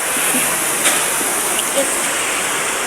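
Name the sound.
rain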